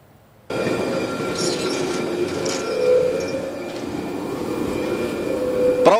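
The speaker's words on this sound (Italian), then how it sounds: "Prove tecniche in diretta del tram di Opicina che sono iniziate oggi dopo i lavori." The Opicina tram in Trieste rolls along loudly and steadily during live technical tests after track works. There is a continuous rumbling roar with a rising wheel squeal near the end, and no voices.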